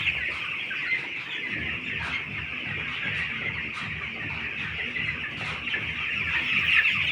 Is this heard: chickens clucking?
yes